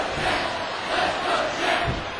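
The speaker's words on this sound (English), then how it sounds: "then the fans are cheering for Scarlett Velvet Ember." A crowd of wrestling fans cheers at the ACW Royal Anarchy 2010 event, making a dense, steady roar that swells and eases over about two seconds with no clear voices.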